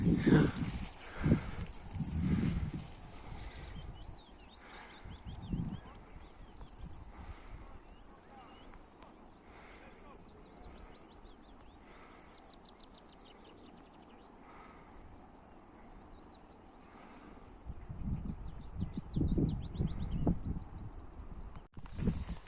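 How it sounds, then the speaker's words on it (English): A grasshopper warbler's high, faint insect-like reeling trill sounds intermittently in the Belfast Hills, partly under footsteps, rustling and occasional close bumps. "the bird over here is definitely a grasshopper warbler"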